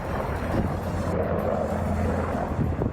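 Russian Mi-28N attack helicopter flying, a steady, loud rotor and engine drone with low thumping and some wind noise, continuous throughout with no voices.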